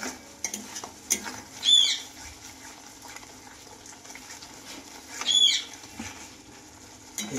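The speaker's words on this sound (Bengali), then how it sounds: "এইভাবে এখন আমি কিছুক্ষণ ভাজবো" Poppy seed paste with fish, bagus mach posto, fries and is stirred in a pan with a low, constant sizzle, with soft scraping strokes and two louder bursts of stirring, close by and without voices.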